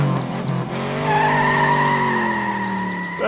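A car pulls away with a loud, sustained tire squeal that holds steady for a couple of seconds, with a revving engine underneath, close and prominent with no talk over it.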